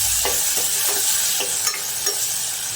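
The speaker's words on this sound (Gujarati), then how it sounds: "બધું મિક્સ કરી લઈશું" Green tuver (pigeon pea) curry is stirred in a pan to mix in salt and sugar, with a soft constant sizzle and several evenly spaced scraping strokes of a spoon, close and quiet, with no voices.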